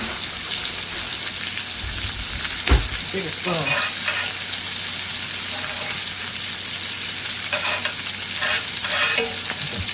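Steak sizzling in butter in a cast iron grill skillet while a spoon bastes it, a loud continuous frying hiss with intermittent scraping and spattering bursts, close by.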